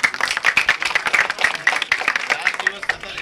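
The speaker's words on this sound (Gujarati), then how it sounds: "આમના માટે જોરદાર એક તાળી થઈ જાય" An outdoor crowd in Gundala village, Gir Somnath, gives a hearty round of rapid, rhythmic clapping for an elderly man at a newly built house, with voices mixed in among the claps.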